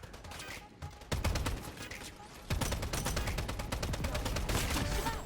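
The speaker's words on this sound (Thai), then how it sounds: "อันนี้จะเป็นสกิลป้อมปืนนะ" Automatic turret gunfire in the anime-style shooter Calabiyau, loud rapid bursts of shots with a brief pause before a sustained stream of fire.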